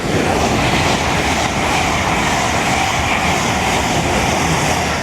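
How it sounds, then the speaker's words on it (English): An LNER Azuma express bound for Leeds roars past at speed through Retford station on the East Coast Main Line, a loud, steady, close rush of wheel and air noise with no voices. "Pass through now as an LNER Azuma to Leeds"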